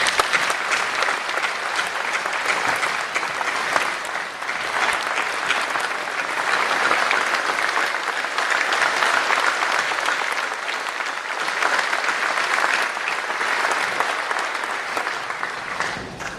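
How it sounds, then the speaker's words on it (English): Steady, full applause from an audience at a military change of command ceremony, honoring special guests, continuing evenly and fairly loud for over sixteen seconds without any talking. "Please join me in a round of applause for all these special guests."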